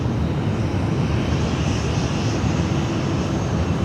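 A Delta Airbus A350 airliner lands on runway 16 left, a steady broad jet roar heard from a distance with wind-like rush and no voices.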